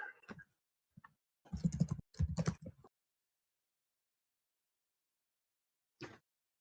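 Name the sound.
typing on a small laptop keyboard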